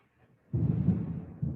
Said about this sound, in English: Candace, that's thunder